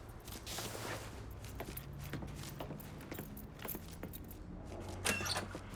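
Keys jangle faintly as they are picked up in the Mafia III game, a scatter of light metallic clinks and rattles over a low mechanical background hum, with a slightly sharper clink near the end.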